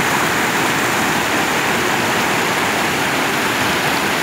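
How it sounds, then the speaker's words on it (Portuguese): Strong river water rushes near the Capivara dam, a loud, continuous roaring wash of turbulent flow, steady and close, with no voices. "Olha só o fluxo de água."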